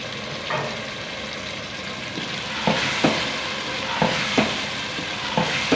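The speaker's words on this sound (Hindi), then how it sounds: "दो से 3 मिनट के लिए और भून लेते हैं" Yogurt and chopped green chillies frying in a pan for potato and pea rice, with a steady sizzle and occasional sharp scrapes of a spoon stirring, close and moderately loud, with no voices.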